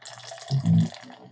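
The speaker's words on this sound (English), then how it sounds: "when you pour a drink, you know you're pouring a drink because it's a nice mixture of sounds" A drink being poured over ice cubes, a short liquid splash that swells briefly in the middle, close and alone without voices.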